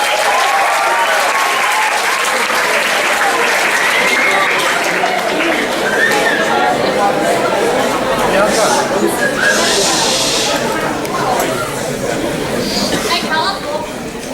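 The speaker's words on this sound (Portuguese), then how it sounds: "Palmas para ele." A lecture audience applauds the speaker at a school talk, with dense, steady clapping from a large crowd that fills the whole stretch, loud and close with faint chatter mixed in.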